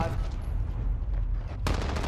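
Automatic fire from a RAM-7 assault rifle in Modern Warfare, a sustained rattling stream of shots with a sharp renewed burst near the end, loud and close amid game noise.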